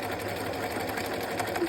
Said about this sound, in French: vous allez coudre à 2 mm du bord